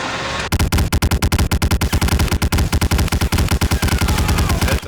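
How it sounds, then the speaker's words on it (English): Heavy guns in the Medal of Honor Warchest video game fire loud, rapid, continuous bursts, shot after shot in a tight rhythm with no talking. "That's some heavy bullets."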